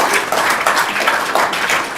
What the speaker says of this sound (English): I'm going to have to ask you all to withhold your applause during public comment